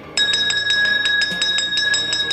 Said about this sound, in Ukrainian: Тож наш останній дзвоник пролунає сьогодні з вірою у перемогу.